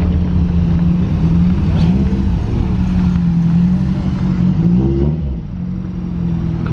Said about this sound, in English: A couple other cars all rolling in.